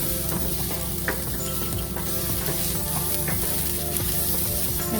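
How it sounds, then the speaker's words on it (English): Mixed vegetables lightly roasting in a hot pan for a Kerala mutton stew, a steady close sizzle with faint crackles and the odd scrape of stirring throughout. "I'm just lightly roasting the vegetables"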